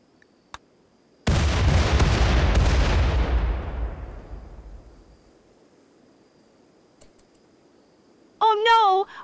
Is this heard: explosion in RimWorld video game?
yes